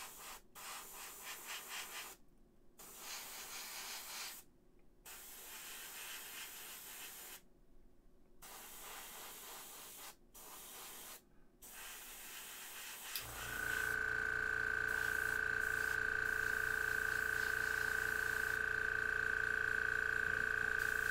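An airbrush hisses in short bursts as it sprays shading paint onto a McFarlane Hellblaster Primaris marine figure, quiet and close, followed by a steady continuous hiss.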